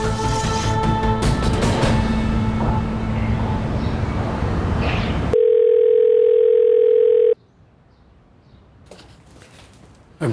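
A telephone call goes unanswered, giving a loud steady tone that holds for a couple of seconds and then cuts off abruptly, followed by near silence after a stretch of busy background sound.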